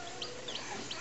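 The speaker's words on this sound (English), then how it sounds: "Chicks like to call to each other" Newly hatched chicks peep in soft, high chirps over a brief stretch, several calls overlapping faintly against a steady background.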